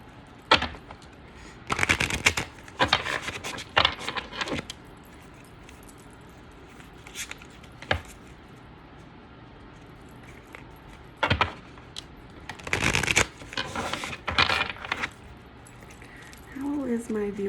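Tarot cards are shuffled in several quick riffling bursts separated by pauses, close and crisp against a quiet room.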